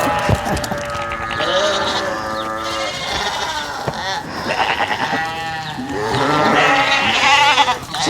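A small flock of farm sheep bleats repeatedly and loudly while being herded, overlapping wavering calls close by, with a herder's voice hushing them in between.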